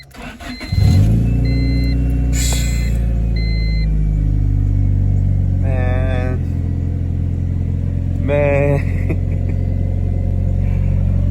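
A car that had sat unused for four years cranks briefly and fires up near the start, then settles into a steady, loud idle with a few light revs, while occasional chirps sound over the running engine.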